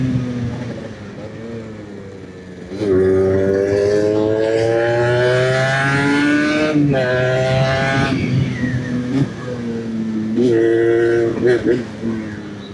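Yamaha RX 135 two-stroke motorcycle engine revving and climbing through gear changes on an off-road ride, rising and falling pitch with a loud close drone and a voice talking over it.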